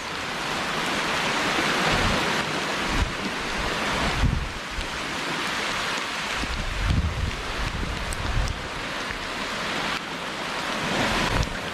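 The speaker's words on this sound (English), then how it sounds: "It's raining in paradise" Steady rain and gusting wind on a tropical beach on the island of Praslin in the Seychelles, with a constant loud wash of noise and occasional low buffeting thumps of wind against the microphone, and no voices.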